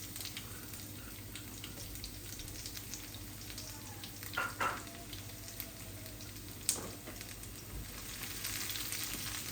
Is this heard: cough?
no